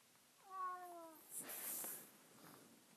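A house cat lets out one clear, drawn-out meow close by, followed by a rustling noise and a quiet room.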